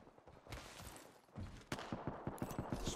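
Gunfire in a video game crackles in repeated sharp bursts, a rapid string of close shots building toward the end, with some footsteps between the volleys.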